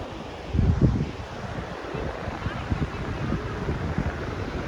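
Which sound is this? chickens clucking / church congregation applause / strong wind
strong wind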